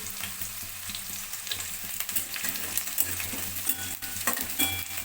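Finely chopped green chillies sizzle in hot oil in a pan for sabudana khichdi, a dense, steady crackle with brief stirring scrapes, close and without voices.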